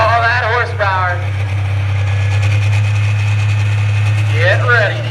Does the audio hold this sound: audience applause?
no